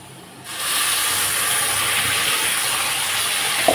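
Spices tipped into hot oil over browned fried potatoes for a fish curry, setting off a sudden loud, steady sizzling hiss that starts abruptly and continues unbroken, close to the pan.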